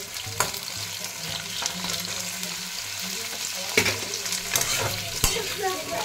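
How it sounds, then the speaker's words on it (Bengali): Potatoes fry in a pan with a constant close sizzle, punctuated by occasional sharp clinks and scrapes of a utensil stirring them. "আলুগুলো আমি আগে ফ্রাই করে নিই।"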